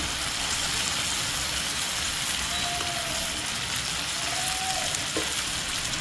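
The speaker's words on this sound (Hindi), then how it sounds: "इसे थोड़ा सा हम स्टर करेंगे क्योंकि पैन में हमें जगह भी बनानी है" Strained amaranth greens (chaulai bhaji) sizzle steadily in a pan, close and even, with a couple of soft scraping stirs partway through and no talking.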